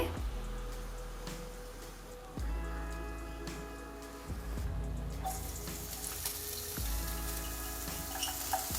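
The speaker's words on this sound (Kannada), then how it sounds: "ಬೆಳ್ಳುಳ್ಳಿ ಹಾಕ್ತಾಯಿದ್ದೀನಿ. 1 ನಿಮಿಷ ಫ್ರೈ ಮಾಡೋಣ ಇದನ್ನು." Garlic goes into hot oil in a pan for a garlic sauce and fries with a loud, close, continuous crackling sizzle. Several sharp low thumps and clatters cut in as the pan is handled, and the frying swells brighter toward the end.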